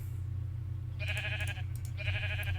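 Sheep in the Minecraft video game bleat twice, one call after the other, over a steady low background hum, with no talking.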